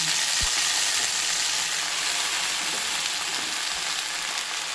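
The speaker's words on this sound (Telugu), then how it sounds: "ఇప్పుడు గోంగూర వేసుకున్నాం. సో ఇది మంచిగా మగ్గనిద్దాం ఆయిల్లో మనము." Gongura leaves frying in oil in a pan after green chillies were fried, a steady close hiss of sizzling throughout with a couple of faint clinks, no talking.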